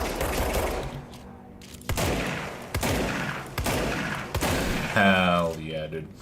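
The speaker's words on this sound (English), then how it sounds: "Love me some shotguns. 6 shots." A shotgun fired in the video game Control: about five heavy blasts spaced roughly a second apart, loud and close over a steady background din.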